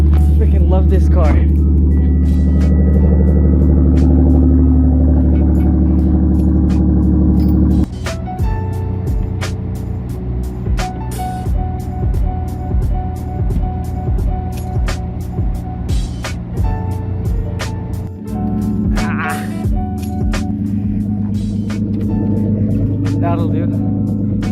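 A Hyundai Genesis Coupe with an aftermarket exhaust idles loudly after a cold start on a Canadian winter day, a deep steady rumble that eases partway through and then swells again, with sharp ticking clicks over it.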